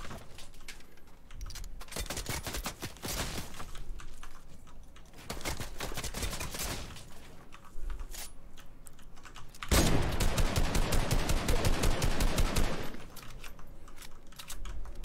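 Rapid bursts of video game gunfire rattle in stretches with short gaps, ending in a dense, loud volley, mixed with clicking.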